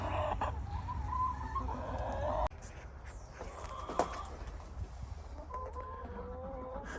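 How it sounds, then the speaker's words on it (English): Speckled Sussex and gold lace Wyandotte hens, about a year old, cluck and murmur in a farmyard coop, with soft repeated calls rising over a steady low background hum and a faint voice now and then. "These are our speckled Sussex and our gold lace Wyandottes."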